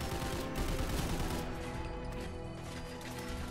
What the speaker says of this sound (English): Chinese Assault Rifle.